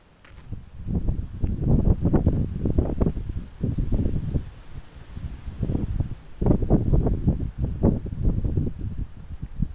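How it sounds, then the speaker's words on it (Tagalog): Gusty wind on a high road near the Kaybiang Tunnel buffets the microphone in heavy, uneven rumbling bursts, rising and falling throughout with no voices. "Malakas yung hangin."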